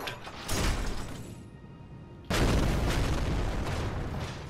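A cannon shield fires in an Elden Ring PvP match, producing two heavy, booming blasts a couple of seconds apart, each one loud and close with a rumbling tail.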